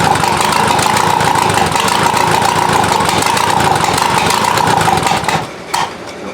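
VW diesel engine swapped into an offroad Mazda, freshly fired up without glow plugs, idling with a rough clattering chug for several seconds before it stumbles and dies out near the end.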